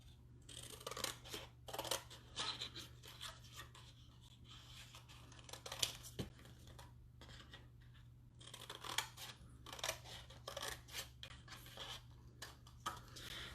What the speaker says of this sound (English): And then I'm also going to cut the bottom flaps off my box.